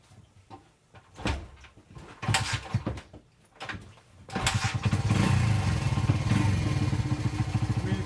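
Honda XR80 dirt bike fitted with a China PZ20 carburetor, its engine starting up after several bangs and clatters, then running steadily at a loud, even idle close by, at night.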